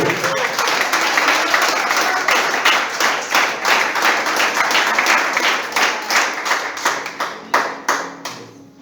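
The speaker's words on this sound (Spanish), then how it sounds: "Aplaudan que vive." A church congregation applauds steadily, a dense wash of clapping that settles into a slower, more unified rhythmic beat of loud synchronized claps toward the end.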